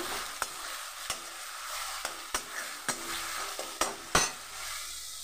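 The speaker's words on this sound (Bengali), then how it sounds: "মশলাটা আমি কষে নিই" Spice paste for an egg curry frying in oil, with a steady crackling sizzle and a spatula scraping the pan in regular sharp strokes about every second, close and alone.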